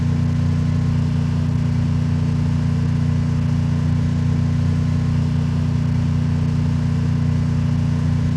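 A car engine in a Gintama event loot-clan video game drones at a steady, loud, unbroken pitch for the whole stretch, with no voices over it.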